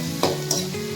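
Brinjal pieces fry in hot oil, giving a steady close sizzle broken by a few short stirring scrapes.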